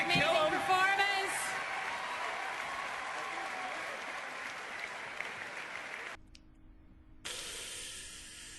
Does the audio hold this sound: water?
no